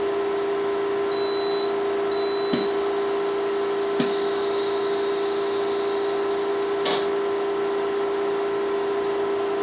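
A Karl Suss MJB4 mask aligner runs an exposure with a constant electrical hum. Two short high beeps come early, followed by a few faint clicks, in a quiet lab with no talking.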